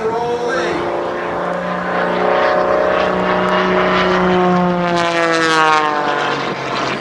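A propeller aircraft performing aerobatics at the Gathering of Eagles airshow, its engine droning loudly and continuously with a shifting, rising-and-falling pitch as it rolls and dives nearby, a commentator talking over it.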